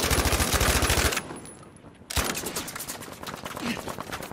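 Bursts of automatic gunfire from the video game Battlefield V, loud and rapid, break off for about a second and then resume as a denser, slightly softer string of shots.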